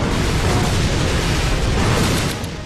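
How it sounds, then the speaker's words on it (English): Dense, roaring artillery blasts in Simple DS Vol. 31, a custom-tank game, forming one loud continuous rumble of booms that fades slightly at the end. "Why do you put so much artillery on the ground?"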